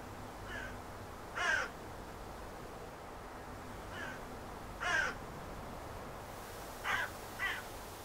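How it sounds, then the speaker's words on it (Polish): Crows cawing near a raptor-watching hide, with short harsh caws in separated bursts: a pair around the start, another pair midway, then two quick calls near the end over faint background hiss. "Zaczyna się pojawiać coraz więcej wron."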